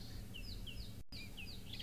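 Repeated bird calls on a safari drive in the bush, a series of short sweeping whistles high in pitch, fairly faint over steady low background rumble, about eight calls evenly spaced with a brief dropout midway.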